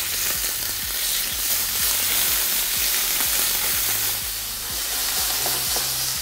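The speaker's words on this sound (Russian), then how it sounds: "Сковородочка у нас раскалилась. Мы сейчас закинем аккуратненько бекон." Bacon fries in a hot pan with a steady, close sizzle and frequent small popping crackles, heard alone without talk.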